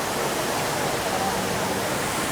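An indoor waterfall inside Singapore's airport gives off a continuous, even rush of falling water, close and fairly loud, unbroken for the whole moment with no other sounds standing out.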